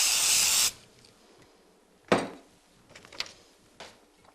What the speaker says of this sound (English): I'm going to spritz this a little bit